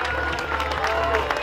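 A crowd applauds the winners of a dragon boat battle race in Santiago del Teide, a brief steady wash of clapping close by with voices and a low rumble underneath.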